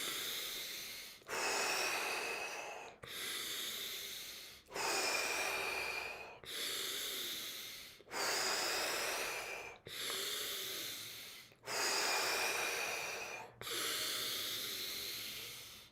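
Deep, rapid breaths during a Tummo breathing session, about nine strong rasping inhale-exhale rounds in a steady rhythm close to the mic, each one starting loud and fading before the next, with no talking.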